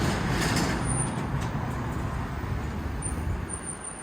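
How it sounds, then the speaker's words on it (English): Busy street traffic rumbles continuously nearby, with passing vehicles and a brief hiss like an air brake. "Sorry for all the traffic noise."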